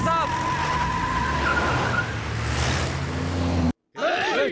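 A car engine roars and tires hiss as the vehicle pulls away in a dramatic film scene, a loud continuous rush under shouting and music before an abrupt cut.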